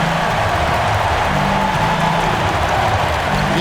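Crowd noise from an NBA 2K25 basketball arena, a dense loud roar of cheering and applause that stays steady and unbroken over a low tonal hum.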